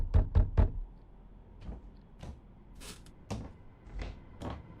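In the video game Burial, a quick burst of three knocks on an apartment door, then scattered single knocks and soft thuds follow, fairly close and distinct.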